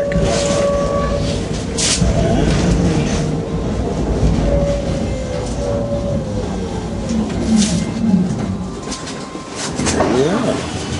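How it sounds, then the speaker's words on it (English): Trains rumble through Amsterdam Central station, with a continuous rolling clatter of wheels, squealing rails and tonal whines, some nearby and some farther off, under faint background voices. "here we are in Amsterdam Central, coming up to the train station"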